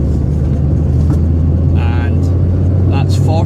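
A Peugeot 205 1.8 diesel pulls hard in third gear with a steady, loud engine drone throughout, while people talk briefly over the noise.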